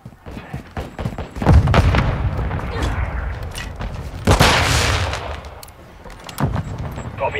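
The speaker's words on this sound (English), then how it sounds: "Mortar strike inbound now." Mortar strike explosions in Call of Duty Modern Warfare II multiplayer, two heavy booms about three seconds apart amid ongoing gunfire and battle noise, with faint voices in the mix.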